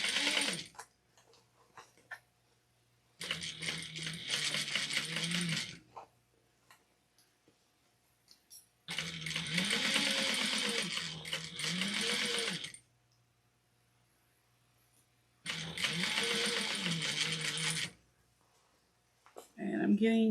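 Domestic sewing machine backstitching a seam on a fabric bin, three bursts of rapid, buzzing stitching separated by quiet pauses, close and fairly loud, with a voice talking in between.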